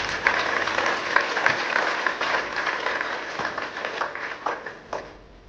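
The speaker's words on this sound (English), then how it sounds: "Clap for yourself." Audience at a speech clapping for themselves, a moderate round of applause whose individual claps grow sparser and fade toward the end.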